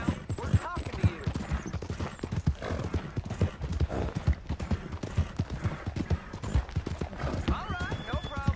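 Horse hooves clip-clop steadily in Red Dead Redemption 2, dense and close throughout, while people talk over the hoofbeats and a horse whinnies faintly near the end.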